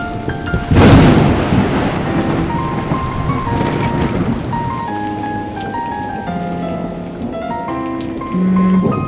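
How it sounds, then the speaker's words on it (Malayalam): Heavy rain pours steadily while a loud crack of thunder breaks early and rolls away. Thin tonal sounds drift in the background. "നല്ല മഴയല്ലേ?"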